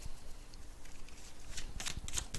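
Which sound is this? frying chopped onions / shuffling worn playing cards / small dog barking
shuffling worn playing cards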